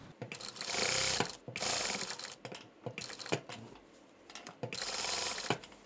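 A sewing machine stitches fabric in several fast whirring bursts separated by short pauses, close and fairly loud, with clicks as the needle stops and restarts.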